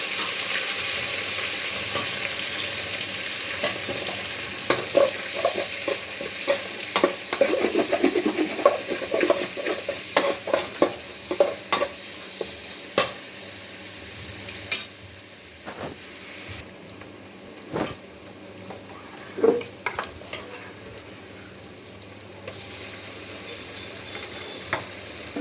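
Cumin, bay leaf and garam masala sizzle in hot oil with chopped garlic and onion, a steady frying hiss broken by repeated scraping stirs and clinks of a utensil against the pan, with no talk.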